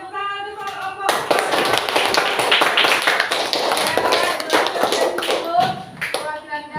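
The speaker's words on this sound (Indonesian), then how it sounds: "beri tepuk tangan untuk kelompok." Students in a classroom applaud a student group, a burst of close, uneven clapping that lasts several seconds, with voices talking over it.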